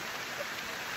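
Rain falls outdoors during a shoot, a dense, even hiss of droplets that stays steady and close for the whole second with no voices over it.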